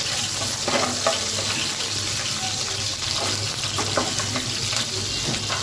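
Green chillies are dropped into bottle gourd frying in a home kitchen pan, giving a loud continuous sizzle with scraping, clattering stirring strokes close by.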